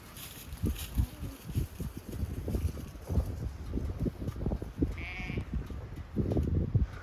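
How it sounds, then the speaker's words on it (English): Newborn lambs and ewes bleating on a spring pasture, repeated bleats from several animals at middling distance, with light wind noise across the microphone. "Awful nice pair of lambs right there."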